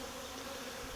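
Honey bees buzz inside a hive box in a steady, close, continuous drone with no pauses.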